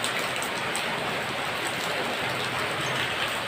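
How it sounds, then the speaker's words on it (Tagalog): Steady rain pouring down during an engine rebuild outdoors, a dense, even hiss of falling drops with no let-up and no voices. "Umuulan."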